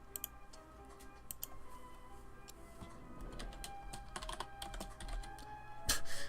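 Typing on a computer keyboard, quick irregular clicks in bursts, some clustered and louder near the end, over a faint steady background hum.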